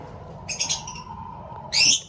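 African lovebirds in a mini aviary give two short, loud, harsh squawking bursts close by, separated by a quieter gap.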